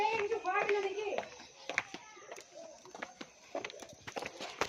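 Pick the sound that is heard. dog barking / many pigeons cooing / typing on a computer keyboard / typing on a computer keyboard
many pigeons cooing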